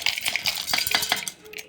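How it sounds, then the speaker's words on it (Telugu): Fried lentils and dried red chillies tipped into a steel mixer jar, a quick run of bright metallic clinks and rattles from a spoon against the jar, close and clear. "అవి మిక్సీ జార్లో వేసుకొని"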